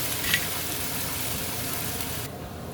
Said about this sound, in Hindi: इसमें चम्मच चलाएं, अच्छी तरह से 1 मिनट के लिए भुनाई करनी है।